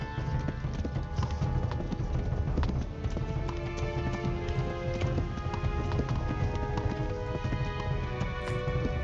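Horse hooves gallop in the Kingdom Come Deliverance video game, a fast, steady clip-clop that stays close and loud from start to end.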